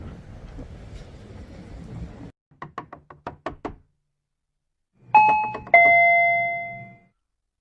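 A run of sharp knocks at a door followed by a loud two-tone doorbell ding-dong chime ringing out clearly and decaying, after a stretch of low background noise, with no one speaking.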